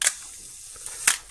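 A Pentax K1000 film camera's mechanical shutter fires twice, with crisp close clicks about a second apart and quiet in between.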